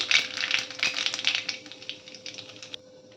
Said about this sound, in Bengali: এখানে কালো জিরে ফোড়ন দিচ্ছি